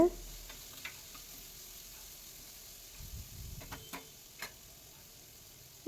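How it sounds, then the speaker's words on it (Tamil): Soft frying sizzle of radish in a pan, low and steady, with a few faint clicks and stirring scrapes along the way. "அந்த ஸ்மெல் சுத்தமாக போகிற வரைக்கும் நீங்கள் வந்து நல்லா ஃப்ரை பண்ணிக்கோங்க"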